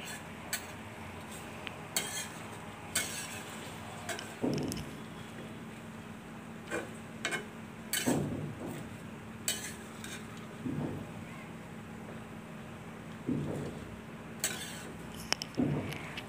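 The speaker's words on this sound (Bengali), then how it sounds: "এখন এটা ভালোভাবে মাছের সাথে মিশিয়ে দেবো নেড়ে চেড়ে" Malabar spinach and a pangas fish head are stirred together in a pot, giving intermittent scrapes and light metallic clinks of a spoon over a low, steady background hum.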